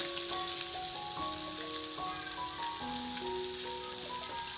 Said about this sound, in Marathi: आणि इकडे आपले फिश फ्राय होत आहे